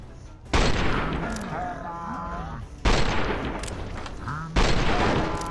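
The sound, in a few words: grenade thrown amid gunfire in Fallout New Vegas video game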